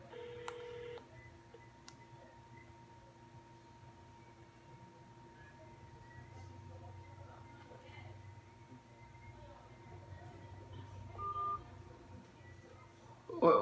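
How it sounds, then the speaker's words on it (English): A phone on speaker plays faint keypad dialing tones, followed by a quiet, steady ringing tone that continues under light room noise. "I'm gonna dial the number, y'all."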